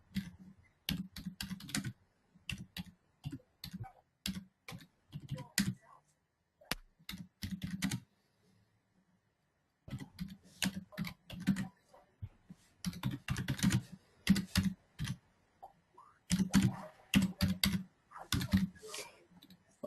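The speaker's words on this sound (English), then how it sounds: "I should be a faster typer." Typing on a computer keyboard during a group call, with bursts of quick key clicks separated by short pauses, close and clear, without speech.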